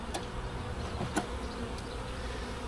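Honeybees droning around an open hive during the first spring inspection of 2025, a steady, low hum close by with a few faint clicks and handling knocks over it.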